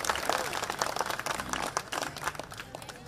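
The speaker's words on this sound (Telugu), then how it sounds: "మనం గట్టిగా చప్పట్లతోటి వాళ్ళని అభినందిద్దాం" An audience at an outdoor Telangana government cultural celebration applauds the performing artists with a thick wash of continuous clapping, fairly close and even in loudness, with some crowd murmur mixed in.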